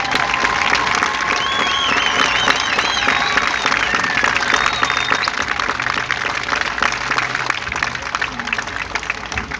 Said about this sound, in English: Let's give Jordan a round of applause.